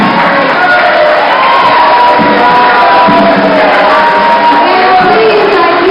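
Loud crowd cheering and whooping fills the room at a 2011 mayoral debate in Mount Vernon, a dense continuous roar of voices with shouts rising above it for several seconds.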